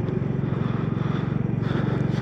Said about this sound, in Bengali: উপরে হেলিকপ্টার যাচ্ছে